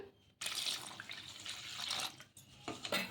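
Idli rava being washed in water at a sink, a tap running and water splashing in bursts after a quiet start, with brief pauses and sloshing, no talking.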